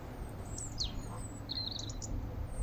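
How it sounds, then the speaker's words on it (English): Faint birds chirp and trill in short bursts against a quiet outdoor background, with a few brief calls close together. "Listening to the birds on my morning walk."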